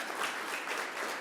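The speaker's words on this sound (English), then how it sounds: "let's give them all a round of applause yet again." Brief burst of audience applause at a journalism Hall of Fame awards event, dense even clapping with no pauses.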